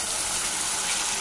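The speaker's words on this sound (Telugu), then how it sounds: "ఇప్పుడైతే వాటర్ పోస్తున్నాం." Water pours steadily into a curry pan in a village kitchen, a continuous close gushing splash with no voices over it.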